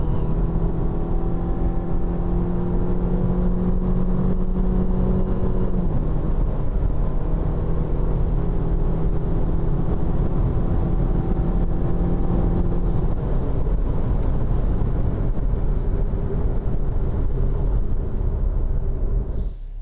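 A Lada Vesta accelerates hard with the gas pedal pushed into kickdown, its engine droning loudly and steadily from inside the cabin, the pitch shifting as it changes gear partway through and climbing again.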